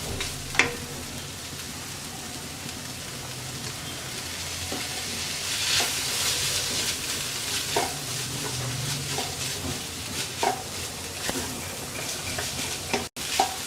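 Vegetables frying in a pan with soy sauce, a continuous close sizzle broken by scattered clicks and scrapes of stirring, with no talk.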